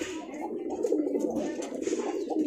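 A domestic pigeon coos close by in soft, low, throaty warbling phrases that repeat without a break for a few seconds.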